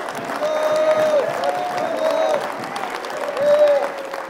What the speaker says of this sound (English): Give him a big clap. Come on.